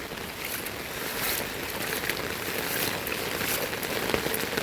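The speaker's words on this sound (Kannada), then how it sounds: "ಇದೀಗ ಮಳೆ ಮತ್ತೆ ಜೋರಾಗೋ ಲಕ್ಷಣ" Monsoon rain falls near a river at a riverside pilgrimage site, a steady close hiss with scattered heavier drops and no talking.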